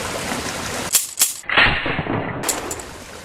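A beaver trap snaps shut with two sharp metallic cracks in quick succession, followed by a brief splashing burst, all close and loud over a steady outdoor background.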